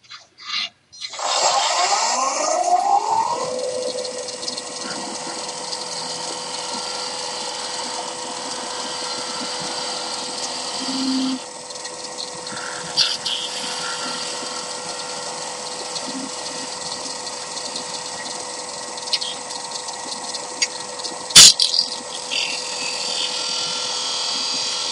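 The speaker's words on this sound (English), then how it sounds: "I'll go ahead and finish the hanger piece. And I'm just using the 1/4 inch spindle gouge." Wood lathe spinning a small hanger piece for a Christmas ornament pendant while a 1/4 inch spindle gouge cuts it, giving a steady continuous whirring drone that runs close and alone with a few brief scrapes and one sharp tick near the end.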